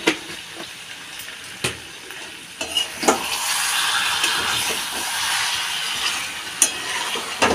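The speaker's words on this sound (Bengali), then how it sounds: "নেড়ে নেড়ে ভেজে নেব, একদম কষিয়ে যাবে।" Chopped tomatoes with salt frying and being stirred in a pan, a loud steady sizzle and hiss punctuated by repeated clanks of a spoon against the pan.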